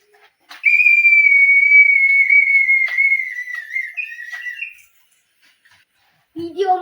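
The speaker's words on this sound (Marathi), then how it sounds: "शिट्टी वाजली." A loud, sustained whistle blows steadily for about four seconds, wavering slightly in pitch near the end before stopping; a voice briefly speaks afterward.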